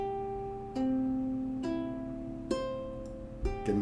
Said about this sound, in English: The last finger picking pattern I'm going to show you today is simply going through all the fingers.